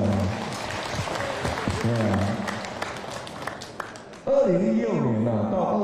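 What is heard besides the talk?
audience applause at a political rally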